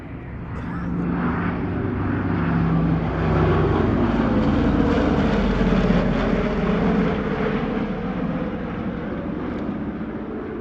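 A Lockheed Super Constellation, an ex-US Air Force airframe painted in Qantas-inspired colours, flies past at the Wings Over Illawarra airshow with a deep, steady drone from its piston propeller engines, swelling and then slowly fading.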